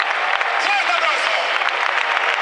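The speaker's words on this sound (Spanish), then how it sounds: "¡Fuerte aplauso!" Crowd applause and cheering at a bull-running event in Valencia with wild bulls, loud and dense throughout, with an announcer's voice carrying over it.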